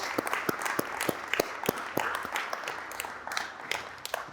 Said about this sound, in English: Give a big round of applause to the panel and as well as to the audience.